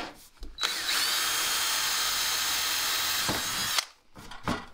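A wood router cutting into metal, a loud steady high-pitched whine that starts abruptly, holds for about three seconds and cuts off, with brief handling noise before and after.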